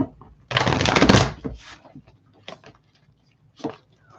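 Tarot cards being shuffled by hand: a dense burst of riffling lasting about a second, followed by a few softer, scattered taps and card slides, fairly close and with no one speaking.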